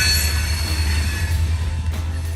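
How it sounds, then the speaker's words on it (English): A westbound freight rock train rolls past on a Monday morning, its deep continuous rumble close and loud, with wheels squealing high above the roar. "we got a train going through right now"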